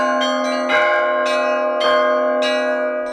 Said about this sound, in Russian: слушать эту колокольную музыку, да еще вблизи, удовольствие